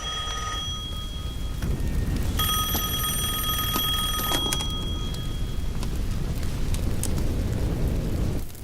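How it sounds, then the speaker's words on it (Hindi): A telephone rings with a bright, trilling bell for a couple of seconds, over a constant heavy rumble of background noise. "वो फोन है।"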